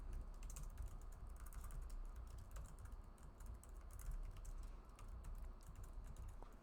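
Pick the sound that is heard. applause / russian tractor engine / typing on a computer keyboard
typing on a computer keyboard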